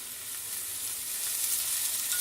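Adai dosa batter sizzling steadily on a hot pan just after oil is added, a continuous bright crackling hiss at an even, moderate level that swells slightly toward the end, with no talking.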